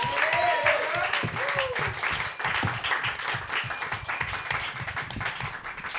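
Audience applause at a New York comedy roast battle, sustained clapping from a crowd in a club setting, steady and dense for the whole stretch with some cheering mixed in.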